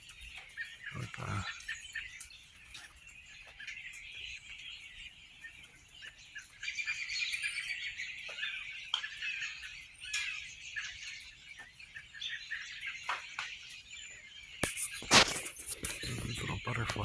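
Birds, crows among them, calling around a residential neighborhood, with scattered caws and chirps at moderate distance over quiet outdoor ambience and a few louder bursts near the end.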